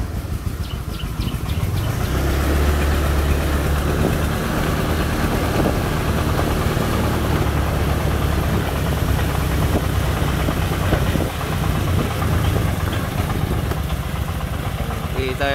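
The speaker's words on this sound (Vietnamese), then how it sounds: "Con này được lắp động cơ diesel trang trai, động cơ máy 24 các bạn nhé." A Vietnamese công nông farm tractor with a 24 diesel engine hauls sand, its loud, steady engine chugging and knocking continuously with a rough low rumble that never lets up.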